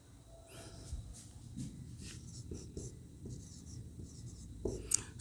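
A pen writes by hand while Sanskrit verses are copied out in a class-10 lesson, giving soft, close scratchy strokes in short irregular bursts with a low room hum beneath.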